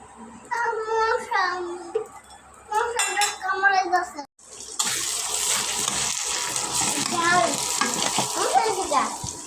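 Noodles cooking and being stirred in a pan, a steady bright sizzle with scraping stirs filling the second half, after someone talks over quieter kitchen sounds.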